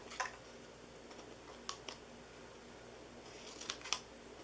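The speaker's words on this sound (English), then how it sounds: "So I'm cutting in, and I'm just cutting little triangles out." Scissors snip paper into small triangles in a few quick, faint cuts spaced across a quiet room, clustered near the start, middle and end.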